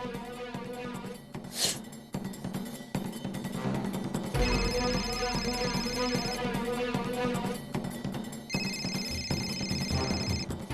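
A telephone rings in two electronic bursts over steady background music, with no one speaking.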